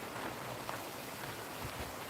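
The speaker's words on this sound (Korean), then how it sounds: "이 시원하게 노래하는 물소리" A stream flows continuously at Tongdosa, a Buddhist temple in Korea, giving a soft, even rushing of water with no clear splashes or voices.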